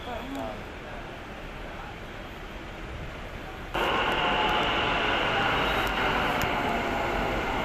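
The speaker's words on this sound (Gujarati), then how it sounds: "અમદાવાદ આવી ગઈ આપણી મેટ્રો" An Ahmedabad metro train rolling along with a steady rumbling roar that steps up sharply in loudness halfway through, heard from inside the carriage, with faint voices beneath.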